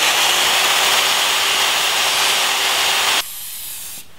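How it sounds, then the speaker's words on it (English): Spray paint applied from an aerosol can to a Jeep Cherokee part, a loud steady close hiss lasting about three seconds before cutting off abruptly, then quiet room tone. "And then add a coat of paint."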